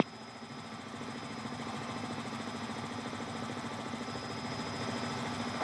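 A Robinson R66 helicopter in flight on a VFR trip near Elstree and Denham gives a constant, close rotor and engine drone with a thin steady whine, unbroken and gradually swelling slightly.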